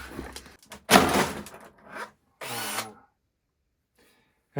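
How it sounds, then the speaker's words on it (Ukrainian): An impact driver with a larger chuck and no speed control drives a screw in two short, loud, close bursts of whirring and hammering, with brief quiet between them and silence afterward. "груповерт з більшим патроном"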